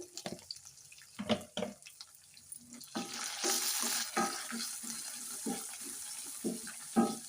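Spices for cucumber chutney frying and sizzling in a pan, close and steady, with clinks and stirring scrapes at the start and near the end and no voices.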